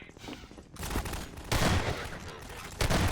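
Submachine gun fire in Half-Life 2 rattles in loud continuous bursts, a rapid burst, then a denser stretch of automatic fire and another louder burst near the end, with no talk over it.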